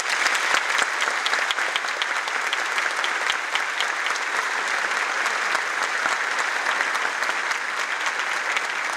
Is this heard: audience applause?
yes